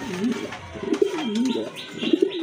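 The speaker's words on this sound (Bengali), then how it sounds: "এটা কিন্তু আপনার গোলাপি ঠোঁটের কবুতর" Big pink-beaked pigeons give low, rolling coos up close, a few repeated throaty phrases in quick succession with soft chirps in the background.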